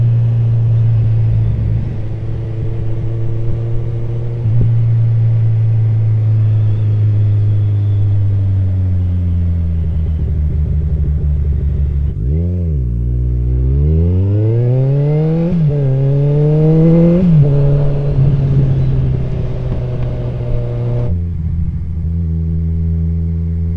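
Motorcycle engine putting along at quarter throttle with the rider's arm on the tank, a steady close rumble that dips and swells briefly mid-way as the revs change, then settles back into a constant drone.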